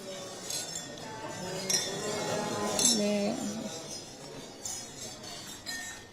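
Glasses clink during a toast at a Korean community gathering in Ankara, with a few sharp chimes scattered across the room over a crowd murmur and some voices.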